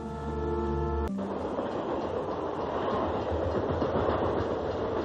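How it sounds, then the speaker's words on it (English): A train rolls past on the rails with a loud, steady rumble and rattle that fills the whole stretch, close by, after a brief tonal note at the start. "The train."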